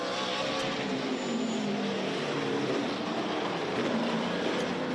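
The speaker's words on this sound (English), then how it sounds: "High above, you can hear the roaring engines." Race trucks at Sebring, including a Silverado, roar continuously at a distance, a steady broadband engine wash with faint tire noise and no talking.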